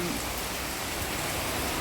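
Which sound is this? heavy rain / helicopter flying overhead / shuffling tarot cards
heavy rain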